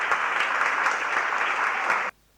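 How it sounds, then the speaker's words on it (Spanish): Loud, dense applause from a congregation at an evangelism and preaching course, a steady wash of clapping for about two seconds before it cuts off abruptly into near silence. "un aplauso para ustedes"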